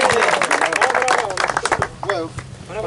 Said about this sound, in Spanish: Aplauso por el deporte, por el fútbol, por poder